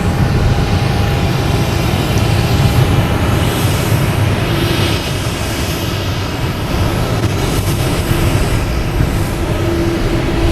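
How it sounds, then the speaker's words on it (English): Japan Airlines airliner taxiing past at Boston Logan Airport, a continuous broad jet engine roar with a faint steady whine, loud and sustained throughout without pause. "We have Japan Airlines passing in review in front of us here."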